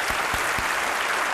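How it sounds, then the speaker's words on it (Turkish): An audience in a television studio applauds a Quran recitation contestant with steady, dense clapping that holds evenly throughout at moderate volume, with no talk over it. "Samet kardeşimizi bir kez daha alkışlıyor"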